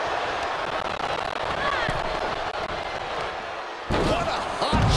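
A hot shot impact between Sonya Deville and Mandy Rose in a WWE 2K22 Monday Night Raw match lands as one sharp slam near the end, under an ongoing crowd roar and a commentator talking.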